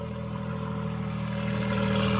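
A Ferrari Challenge race car's engine rumbles with a steady, deep, close drone at the Sonoma track, holding a low idle-like note that builds slightly in loudness.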